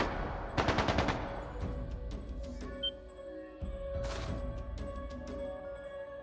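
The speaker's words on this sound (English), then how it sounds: "That didn't sound good. That sounded like gunfire." Gunfire in the Trails of Cold Steel II video game: a loud rapid burst of automatic shots near the start, then a second shorter volley a few seconds later over a steady game soundscape.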